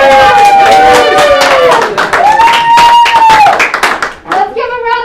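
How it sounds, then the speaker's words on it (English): Applause and cheering for a youth robotics team celebrating a finished competition, loud clapping from a crowd with excited voices and kids talking over it, fading slightly toward the end. "Let's give a round of applause for our coaches"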